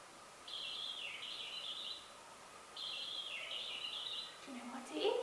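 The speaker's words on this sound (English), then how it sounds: "It's a bird. This bird is called a robin." A robin sings two clear, warbling phrases separated by a pause, moderately close against a quiet hiss, with a brief rustle at the end.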